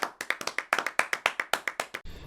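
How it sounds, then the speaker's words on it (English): Canned applause plays as a crisp, rapid burst of many overlapping claps lasting about two seconds, close and clear, ending abruptly into faint noise. "Canned sound of applause."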